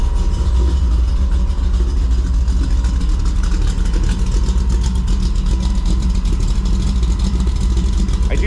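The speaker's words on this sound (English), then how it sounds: "Cold start to Camaro." A Chevrolet Camaro engine after a cold start settles into a loud, steady idle, its deep, continuous rumble close by and unchanging throughout, with no talking heard.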